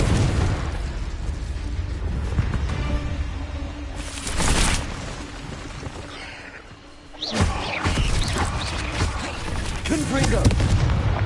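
Fiery blasting-curse explosions from a Harry Potter video game burst loudly in several booming hits, with a deep rumble and crackling debris between them, under a voice casting spells.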